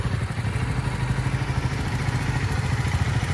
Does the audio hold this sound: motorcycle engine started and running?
yes